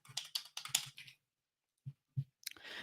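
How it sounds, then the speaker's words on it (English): A computer keyboard typed on in a burst of quick keystrokes, then a pause, then a few separate clicks and another short flurry of typing, close and fairly quiet. "I'll just draw a line and type in the target."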